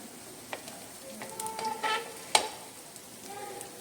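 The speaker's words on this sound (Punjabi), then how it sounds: "ਤੁਸੀਂ ਇਹਨਾਂ 'ਚ ਘੁਮਾ ਘੁਮਾ ਕੇ ਇਹਨਾਂ ਨੂੰ ਗਰਮ ਕਰ ਸਕਦੇ ਹੋ ਅੱਛੀ ਤਰ੍ਹਾਂ ਤੇਲ ਦੇ ਨਾਲ ਫਰਾਈ ਕਰ ਸਕਦੇ ਹੋ" Bottle gourd pieces fry in oil on a griddle, a soft steady sizzle with scattered spatula taps and one sharp clack as they are turned, close and fairly quiet.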